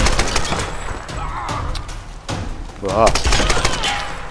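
Gunfire from an enemy shooter in the Tomb Raider video game: rapid bursts of shots crackle in a busy fight, with someone talking over them and a brief whooshing effect midway.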